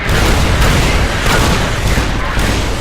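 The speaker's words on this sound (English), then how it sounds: "The M235 missile launcher gives the Securitron" Securitron M235 missile launcher firing in Fallout New Vegas, a dense, loud run of booming blasts packed together with no break, rumbling heavily across the whole stretch.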